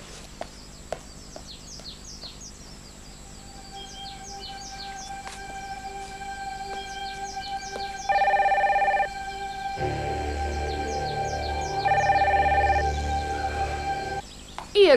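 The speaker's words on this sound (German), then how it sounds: "Kannst du nicht mal ans Telefon gehen?" A telephone rings indoors in two clear bursts amid birdsong and chirping, with a low hum underneath and no voices.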